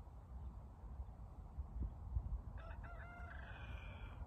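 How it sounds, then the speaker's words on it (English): Faint rooster crow rises in the distance from a pen over low rumbling background noise, a single drawn-out call near the end. "two roosters crowing in the pen"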